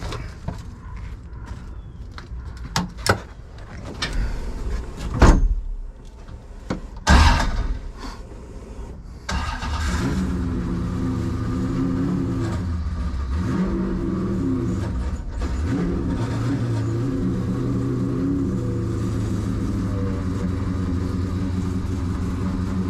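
A C5 Corvette with an LS3-based V8 starts after some shuffling and clunks, then settles into a steady idle and rolls off, the engine drone close and continuous.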